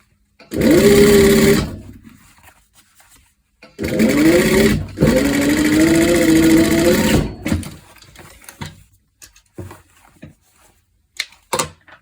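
Sewing machine stitching a leather corset seam, running in two loud bursts of rapid mechanical whirring separated by a pause, then quiet handling noises and small clicks.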